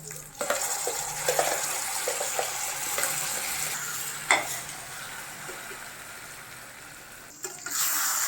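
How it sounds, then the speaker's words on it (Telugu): Ground masala fries with eggplant in oil for nune vankaya curry, crackling in a steady, moderate sizzle while a spoon scrapes and stirs the pan in repeated bursts, close by. "ఇప్పుడు ఈ మసాలాని ఒక 2 మినిట్స్ బాగా వేయించుకుందాం."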